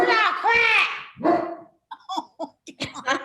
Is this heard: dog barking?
yes